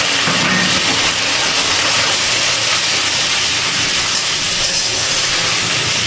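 Water hits spice paste of ginger, tomato and green chilli frying in a pan, giving a loud, dense, steady hiss and sizzle that holds without a break, close by.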